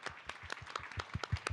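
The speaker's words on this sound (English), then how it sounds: "Let's give a round of applause to our panel." Brief, quiet scattered clapping from a small audience after a panel conversation, individual claps distinct and uneven, rising slightly toward the end.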